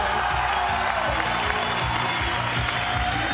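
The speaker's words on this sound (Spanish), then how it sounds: "Aplauso para la chiquilla." A studio audience on a Chilean morning TV show applauds after a Flashdance-style dance routine, a dense steady wash of clapping with some voices mixed in.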